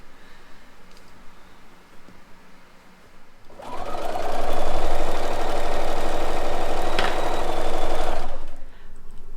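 A sewing machine in an RV sews borders onto a quilt top, starting after a quieter stretch and whirring loudly and steadily for about five seconds at close range before stopping.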